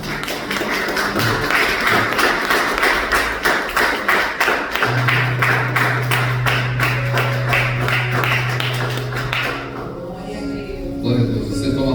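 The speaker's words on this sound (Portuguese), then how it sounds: "as palmas louvam o Senhor" A church congregation claps in a steady, rhythmic beat for about ten seconds, loud and close, with a sustained organ or keyboard tone under it before the clapping fades into murmured voices.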